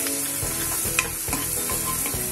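Chopped onion frying in a pan for palak paneer, a steady close sizzle with regular scraping strokes of a spatula stirring roughly every half second.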